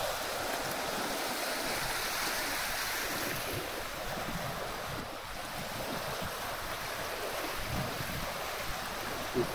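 Rough, choppy water near the Chelfham Viaduct, heard as a steady broadband wash of waves and surf, mixed with gusts of wind buffeting the microphone throughout.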